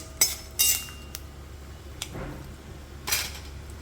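Tempering spices are stirred in a pan over low heat, with a few sharp metallic clinks and scrapes of a spoon against the pan separated by quiet gaps, near and isolated.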